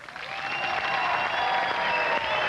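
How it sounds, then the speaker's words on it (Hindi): A television quiz show studio audience applauds in a steady, even burst of clapping that sounds moderately close and lasts a few seconds with no voices over it. "इस दफा मैं देख रहा हूं कि महिलाओं की तरफ से तालियां कुछ ज्यादा जोर से"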